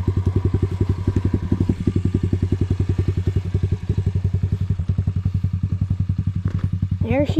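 KAYO TD125 dirt bike idling nearby, a loud, rapid, even chugging pulse that holds steady throughout, with a brief voice near the end.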